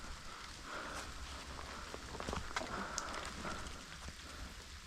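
Rain falls steadily by a creek, a dense, even patter close to the listener with a few sharper drops and faint scuffs, and no voices.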